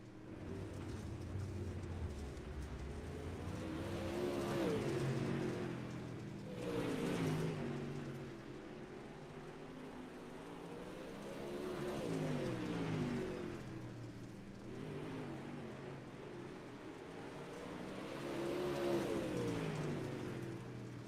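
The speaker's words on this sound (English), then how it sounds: "running his practice laps, getting warmed up and set to go for tonight's qualifying events" Dirt modified race cars run practice laps at Lanier National Speedway, engines swelling and fading in repeated waves as they pass at a distance, fairly faint and steady throughout.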